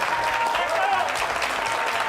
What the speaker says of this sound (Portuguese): o senador conservador vai ser aplaudido mesmo